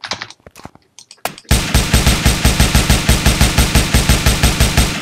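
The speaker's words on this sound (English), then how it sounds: "now he's firing blue laser" Rapid automatic laser fire from an AI enemy in a Unity shooting game, a steady stream of evenly spaced loud shots running continuously after a few scattered softer hits at the start.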